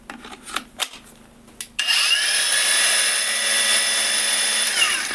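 A Procraft Industrial AG125C cordless angle grinder spins up abruptly after a few faint knocks and handling sounds, then runs at a loud, steady high-pitched whine for several seconds with no voices.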